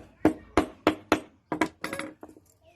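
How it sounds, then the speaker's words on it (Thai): Sharp metallic taps of a small hammer driving a pin into a watch band, about seven quick close strikes in an uneven rhythm, the last few lighter and clustered. "ต้องใช้ค้อนนะครับ"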